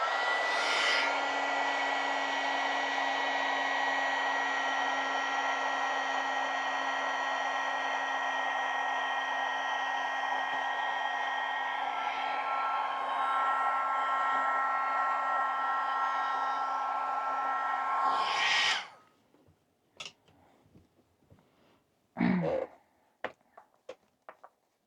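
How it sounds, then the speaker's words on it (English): A heat gun blows steadily for about eighteen seconds, drying paint on a sheet of gel-printed paper, then cuts off, leaving a few faint clicks and handling noises. "I'm gonna hit that with the heat gun because got to dry it now."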